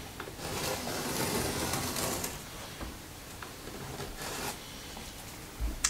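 Pencil marking along the bottom of a wooden mantel cleat during a mantel shelf installation, a steady close scratching and rubbing stroke followed by a few shorter scrapes and light taps.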